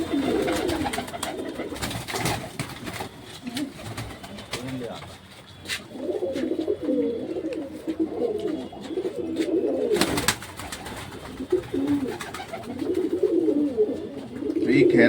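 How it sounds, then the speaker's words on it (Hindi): Domestic pigeons at a pigeon keeper's home in Jabalpur coo in soft, repeated rolling phrases close by, while people talk in the background. "इस कबूतर को अब मैं उड़ाना बंद कर दिया हूँ।"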